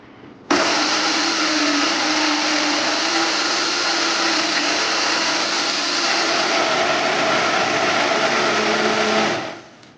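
A blender whirs through strawberry banana smoothie ingredients, starting abruptly and running as a loud, steady, high-pitched motor drone with slight pitch shifts, then spinning down at the end.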